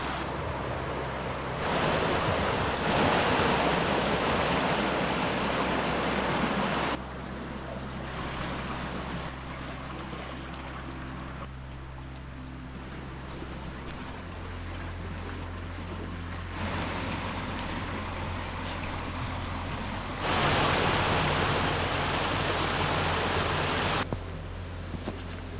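Creek water rushes steadily through Slippery Rock Gorge at McConnells Mill State Park, a broad, loud wash of flowing water with surging swells that continues without any talk.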